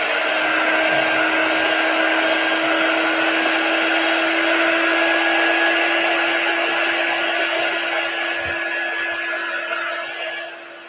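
A hair dryer drying chalk paste on a silkscreen, blowing as a loud, steady whir for about ten seconds, then starting to fade at the very end.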